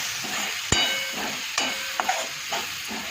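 Soybean keema with cumin powder, turmeric and green chillies roasts in a pan, giving a soft sizzle under a few sharp scrapes and clacks of a spoon stirring, close up with no talking.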